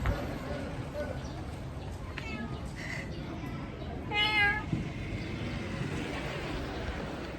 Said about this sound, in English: Look at this little cat in this little window